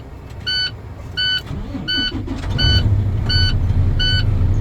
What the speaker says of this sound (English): I'm going to go ahead and safe start my vehicle